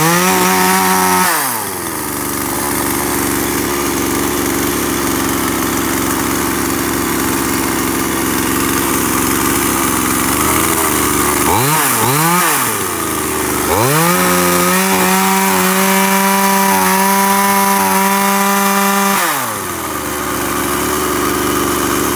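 A used Shindaiwa, Stihl or Komatsu chainsaw engine runs close by in a loud, continuous snarl. It drops to idle a few times, and blips of throttle rise and fall between steadier revving.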